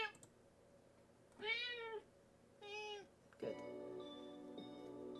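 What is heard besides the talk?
cat meowing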